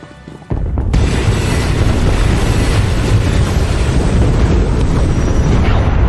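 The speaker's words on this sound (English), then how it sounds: "This cannon wasn't made for 2 people." A loud cannon blast from the video game Star Wars: The Old Republic erupts after a brief quiet moment, then rolls on as a sustained, heavy booming roar that fills the remaining seconds without pause.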